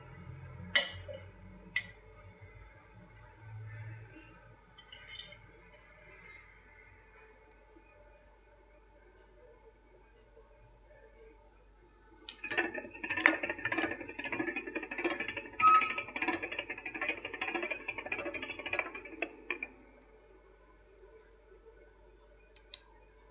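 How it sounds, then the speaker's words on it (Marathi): Mustard seeds crackle and pop in hot oil in a kadhai, a dense burst of sharp sputtering clicks that starts suddenly after a few quiet scattered taps, runs loudly for several seconds, then stops. "मोहरी अशी तडतड होऊ द्यायच्या."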